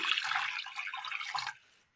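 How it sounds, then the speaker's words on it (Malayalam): A little water being poured into a cooking pan on a stove: a brief, close, splashing pour that stops abruptly after about a second and a half. "അടുപ്പത്തൊരു ചട്ടി വെച്ച് കൊടുത്ത് അല്പം വെള്ളം ഒഴിച്ചു കൊടുക്കാം."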